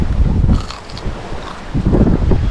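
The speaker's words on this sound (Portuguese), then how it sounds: "torcer para parar esse vento" Strong wind gusting over a riverside camp on the Paraná River, buffeting the microphone in uneven rumbling bursts, loud and close with no talk.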